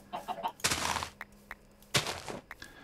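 Minecraft chickens in the Madpack 2 modpack cluck in a few short, scattered bursts mixed with other game noises, at moderate loudness with no one talking.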